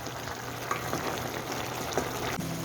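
Mutton with fried-down tomato and onion cooking in a pan for Peshawari namkeen gosht, a steady soft sizzle and bubbling as the liquid cooks off, with faint scattered clinks, continuous and moderately close.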